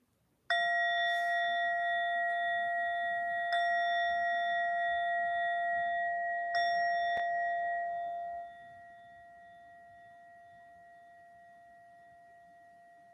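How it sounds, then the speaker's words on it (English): Meditation chimes ring out at the start of a guided mid-day practice: three clear, sustained bell strikes spaced a few seconds apart, each leaving a long pure ringing tone that slowly fades in a quiet room. "So we'll have 3 chimes at the start and then 3 chimes at the end."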